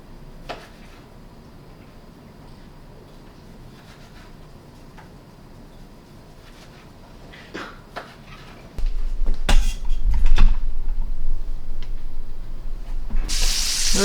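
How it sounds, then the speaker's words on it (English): A knife slices andouille sausage on a cutting board with scattered soft taps and clicks; a louder, steady rushing noise then takes over for the last few seconds. No one speaks. "I'm gonna just slice some andouille sausage, and then we're just gonna sear it."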